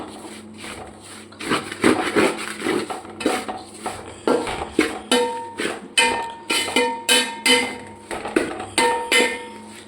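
Spice powders for beef pickle being stirred in a metal pan, a spoon clanking and scraping against the pan in loud, rhythmic strokes that grow quicker and sharper as it goes, with no talking.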